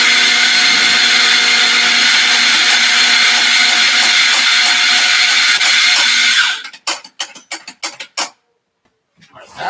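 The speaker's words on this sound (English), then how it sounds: "Grind your coffee fresh as always." A coffee grinder grinding fresh espresso coffee, a loud steady whirring hum for several seconds that cuts off and is followed by a series of sharp taps and knocks.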